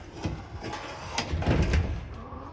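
A pigeon loft aviary door is pulled shut, giving a few soft knocks and a sliding rattle followed by a heavier thud, close and moderately quiet.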